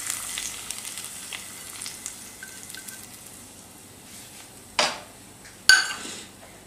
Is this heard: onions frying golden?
yes